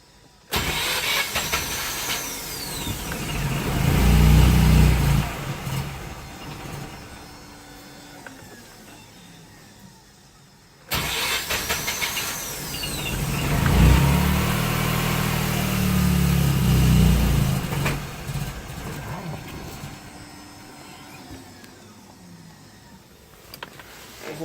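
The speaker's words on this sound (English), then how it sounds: "It looks like it's cranking, it's just doesn't seem to want to stay alive." A Mazda RX8 rotary engine cranks in two long bursts, each catching briefly with an uneven rumble before dying back down, with a short pause between attempts and no talk over it.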